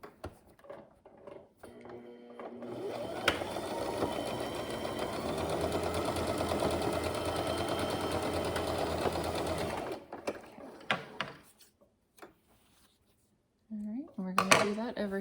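A sewing machine runs a continuous stitching burst of about seven seconds along a quarter-inch seam on a zippered pouch, close and steady, with a few short stops and handling clicks afterward.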